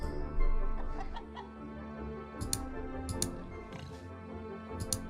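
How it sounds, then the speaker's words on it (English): Hens cluck in a farm management game set on Orwell's Animal Farm, with short scattered clucks and sharp ticking clicks over a steady low background, fairly close and alone without talk. "The hens wake, well and happy in their hutch."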